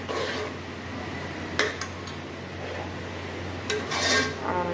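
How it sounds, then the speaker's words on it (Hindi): Masala spices frying in a pan, heard as steady scraping and stirring with a few sharp clinks of a utensil against the metal. The sound is close and continuous, with no speech. "अभी मसाला भून रहा है"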